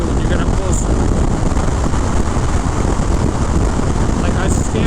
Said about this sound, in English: It's just like crazy windy.